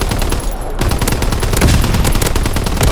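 Primary battery gunfire in Call of Duty: WWII: a loud, dense, continuous barrage of rapid shots and blasts filling the whole moment after a brief dip, close and relentless with no talking.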